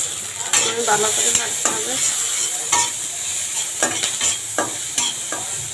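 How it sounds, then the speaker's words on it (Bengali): Onions and green chilies frying in a pan for a spicy eggplant dish, with a continuous sizzle broken by repeated scraping stirs of a utensil against the pan. A voice speaks briefly under the cooking. "পেঁয়াজগুলো দিয়ে দিচ্ছি, কাঁচামরিচ দিয়ে দিচ্ছি।"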